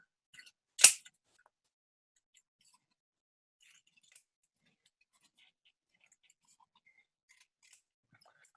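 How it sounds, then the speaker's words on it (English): A single crisp scissor snip through a strip of cereal-box cardboard being cut into squares, one short sharp cut near the start followed by near silence with only faint small rustles. "then I cut the strip into square-shaped pieces"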